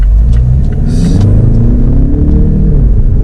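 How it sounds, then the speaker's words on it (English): A Mazda CX-5 with the 2.2 diesel engine accelerates hard at full throttle, a loud, close rumbling drone that climbs steadily in pitch, with brief clatters on top and no speech. "So there's full throttle."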